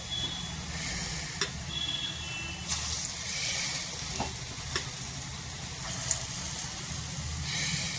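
Black urad dal fries in hot oil on a reduced flame, a constant bubbling sizzle with occasional sharper clicks and spatters, close and moderately loud, with no talking.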